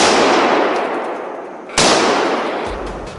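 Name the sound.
rapid gunshots during wild boar hunt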